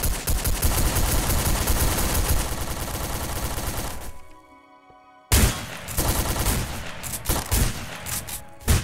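Gunfire in Garry's Mod as players shoot animatronics, loud and close: dense rapid bursts of automatic fire, a brief lull near the middle, then more volleys resuming.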